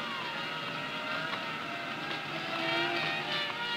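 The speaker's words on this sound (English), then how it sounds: "he is aware only of the motion of the car and the humming of the power conditioning unit" An experimental battery-electric car from around 1976 drives steadily while its power conditioning unit hums, a continuous close whine with layered high tonal lines over a constant motor drone.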